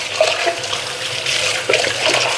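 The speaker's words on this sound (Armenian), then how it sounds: "փակում ենք ու ջուր ա լցվում" Water runs steadily into a container to wash strawberries, giving a continuous close splashing pour with small bubbling bursts.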